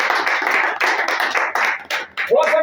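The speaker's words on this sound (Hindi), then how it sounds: "एक बार पुनः मैं चाहता हूं सभी कवि मित्र तालियां बजाएं" Poet teachers at a memorial poetry gathering applaud in a quick, dense patter of handclaps close by, broken by short pauses, with a voice coming in at the very end.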